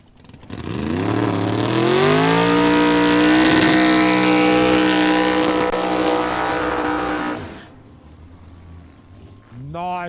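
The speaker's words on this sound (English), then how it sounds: "Nice big burnout there for the big Camaro." A big supercharged Chevrolet Camaro drag car does a long burnout at a drag strip, its engine roaring loud and steady for several seconds before cutting back, then a brief rev, with an announcer talking over it.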